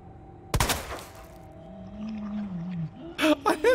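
Gunfire at a monster in the video game Resident Evil 2: a loud burst of shots early, then a low droning creature tone, with a final cluster of sharp rapid shots near the end.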